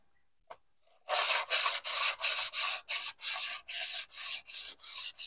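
Jointer planer knives being sharpened on a Parkside 600-grit diamond stone, about a dozen evenly paced, rasping back-and-forth strokes heard up close after a brief tap and a second of quiet, with no talk.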